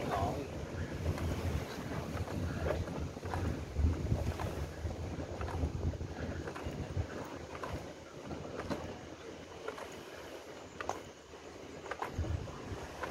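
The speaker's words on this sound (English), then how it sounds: "So this is the ferry right here Thong Sala ferry" Ferry at Thong Sala pier on Koh Phangan, Thailand, a steady low rumble of boat engine and water with wind buffeting the microphone throughout, no clear speech.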